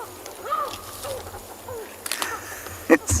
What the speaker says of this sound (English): You hear the tawny eagle complaining.